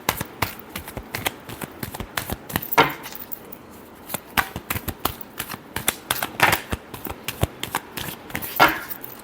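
A deck of tarot cards is shuffled close by, crisp riffling clicks and slaps in quick irregular bursts with brief pauses, steady and fairly quiet with no talking.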